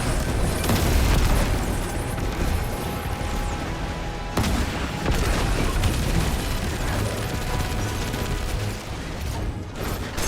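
Rocket explosions in the video game Destiny 2, during the Duality dungeon, roar as dense, loud, continuous booms with rumbling low end and a sharp burst near the middle, layered with game noise and no voices.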